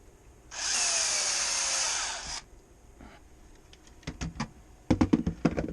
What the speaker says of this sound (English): It's a 3/16 inch hole that we're going to put in this hose.